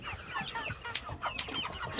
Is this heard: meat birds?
yes